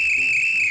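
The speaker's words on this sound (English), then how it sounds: "This whistle is great." A single steady, shrill whistle blast held for under a second, loud and close, with a slight pitch drop as it ends.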